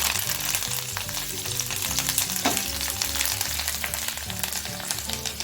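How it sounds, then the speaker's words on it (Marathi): A tadka of red chilies and coriander sizzles loudly and continuously in hot oil, with dense crackling spatter, poured over Konkani pithla bhaat; no voices. "लगेच यावरती आपल्याला तडका देऊन घ्यायचा आहे"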